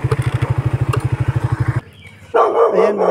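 A dog barks rapidly and steadily, a loud close run of sharp barks, then stops; a voice follows briefly.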